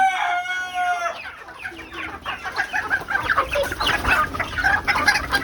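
A rooster crows loudly at the start, then several young chickens cluck and squawk together in a busy, continuous chorus nearby.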